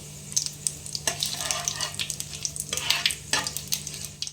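Bay leaves and dried red chilies sputter in hot oil with cumin seeds, a steady close sizzle broken by sharp crackling bursts and stirring scrapes, with a low steady hum underneath.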